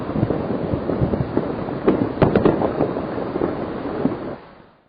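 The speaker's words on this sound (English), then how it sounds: "listen to this sound of an avalanche from Denali National Park and Preserve" An avalanche in Denali National Park and Preserve: a sustained, broad rumbling roar with scattered cracks and thuds, fairly loud and steady throughout before fading away abruptly at the end.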